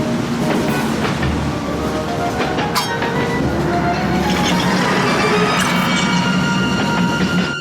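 A cartoon train rolls along with a dense, constant rumble and rattling clatter, metallic clinks and occasional squeals riding on top, loud and steady throughout with no voices.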